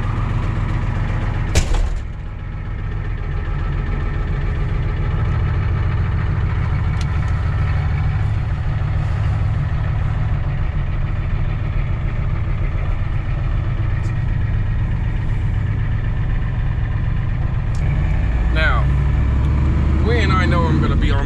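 A black diesel truck engine runs steadily from inside the cab, a constant low rumble and drone as it pulls onto the road, with a brief knock near the start and faint talking toward the end.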